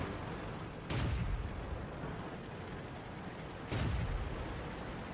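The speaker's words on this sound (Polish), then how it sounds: "Chyba na dwa strzały." Tank cannon fire in World of Tanks, two loud booming shots about three seconds apart, each a sharp broadband blast with a rumbling low tail, over a steady game background hum.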